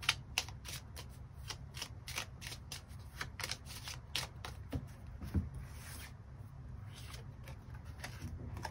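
Tarot cards shuffled and drawn by hand, producing soft, close, rapid riffling and flicking bursts in an irregular rhythm, quiet and with no one speaking.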